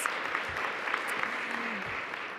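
Audience applause at a Canadian Club social innovation panel, a steady sustained clapping from a crowd heard throughout.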